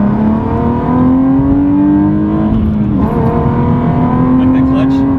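A 400 hp Nissan 370Z Nismo engine pulls hard, its close, loud drone climbing steadily in pitch with a brief dip near the middle before rising again.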